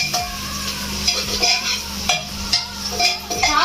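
Spices sizzle in a hot pan while a spoon stirs and scrapes at intervals, close and lively.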